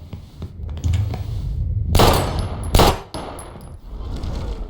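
Gunshots and sharp impacts in the Life is Strange Remastered video game: two loud, abrupt bangs stand out above a low rumble of background sound, with a fainter thump afterward.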